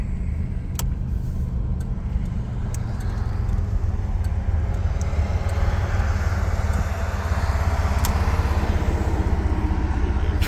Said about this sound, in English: Traffic going by.